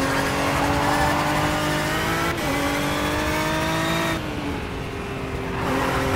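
A race car in the rFactor 2 racing game runs off the track onto grass, its engine droning loudly and steadily with slight pitch shifts, mixed with tire scrub and skidding noise and no talking.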